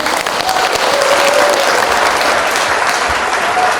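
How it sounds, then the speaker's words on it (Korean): An audience at a Korean concert event applauds in gratitude, a loud, steady burst of clapping that fills the whole moment without pause. "여러분, 감사의 박수 한번 부탁드릴까요?"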